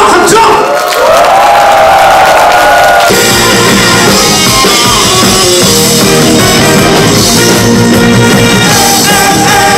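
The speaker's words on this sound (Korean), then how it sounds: "박수와 함성!" A live audience at a Korean janggu percussion show bursts into loud sustained cheering and applause, a dense roar of crowd noise with shouts and whoops mixed with music.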